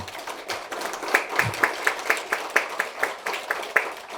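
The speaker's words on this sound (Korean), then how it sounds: "우리 이 두 분한테 다시 한번 또 큰 박수 한번 부탁드립니다" Steady applause from a crowd, many hands clapping continuously with a few sharper claps standing out, moderately loud and close.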